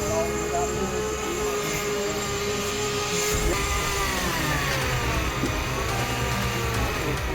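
Boat motors running on a deep-sea fishing boat, a steady droning engine hum throughout with people talking over it.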